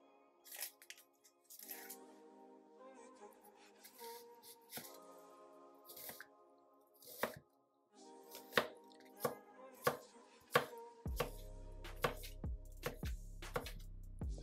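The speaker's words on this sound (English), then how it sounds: "First, we're going to start out by dicing a half of an onion." Half an onion being diced with a knife on a cutting board: a run of crisp, close chopping taps in quick bursts with short pauses, growing heavier and more regular toward the end.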